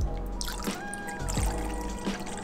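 Half and half poured as a generous splash into coffee for a pumpkin spice latte makes a brief, close liquid trickle and pour lasting a couple of seconds.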